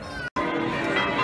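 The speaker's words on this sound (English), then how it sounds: "the bells are going. You can hear them." Church bells ring in Rome outside a papal address as a crowd disperses, a bright sustained peal with overlapping tones, mixed with distant crowd murmur and a brief cut partway through.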